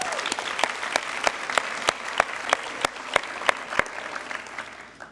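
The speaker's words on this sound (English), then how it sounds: "give yourself another round of applause." A graduating class of 2019 at a baccalaureate ceremony applauds itself, a full-room round of clapping with sharp, distinct claps standing out, gradually thinning toward the end.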